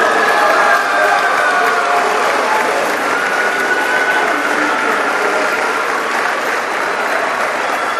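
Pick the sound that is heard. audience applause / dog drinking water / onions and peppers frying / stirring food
audience applause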